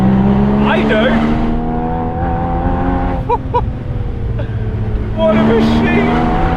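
Porsche Boxster Spyder engine on a mountain pass, a steady close droning note that rises and falls with throttle, with brief gear-shift dips around the middle and a surge of revs near the end.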